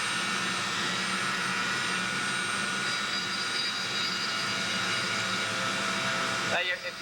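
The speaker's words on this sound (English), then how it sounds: "just have a Dremel tool with a very sharp point" Dremel rotary tool with a sharp pointed bit scuffing the surface of a tank, a continuous high whine held steady and close for several seconds before cutting off abruptly near the end.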